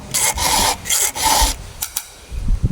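A Dragon file rasps across chainsaw chain teeth in a run of steady back-and-forth strokes, close and fairly loud, with short pauses between them and a few quicker strokes at the end.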